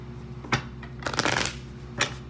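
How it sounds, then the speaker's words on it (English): A deck of cards being shuffled in a few quick riffling bursts, close and crisp, with short pauses between them. "let me shuffle real quick."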